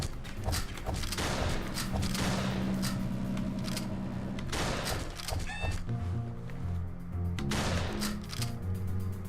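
Gunshots in the video game Ballistick pop in quick, repeated bursts over steady game music and effects, fairly close and continuous throughout.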